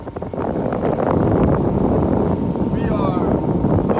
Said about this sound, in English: We are motoring past the Norfolk Navy base right now.